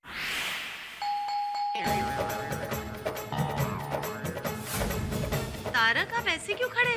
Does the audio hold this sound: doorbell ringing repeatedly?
yes